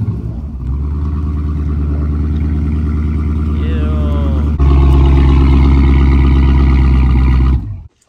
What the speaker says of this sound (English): I think I'm gonna give y'all a little cold start. Y'all gotta hear the cold start.